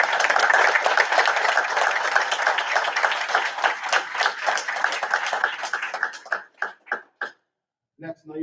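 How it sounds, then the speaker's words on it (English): Applause at a township council meeting, a loud burst of clapping from the room that thins into a few scattered claps before stopping, followed by a voice. "So we'll give Mark a round of applause."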